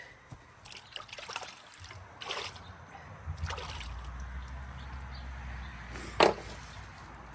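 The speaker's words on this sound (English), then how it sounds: "Quick little rinse here." A cleaned squirrel gets a quick rinse in water, with a gentle trickling and splashing running close by and one brief louder splash near the end.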